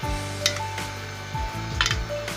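Palak chicken, made of chicken and spinach, fries in a pan with a steady close sizzle. Stirring scrapes and clinks of utensil on metal recur several times, with no talking.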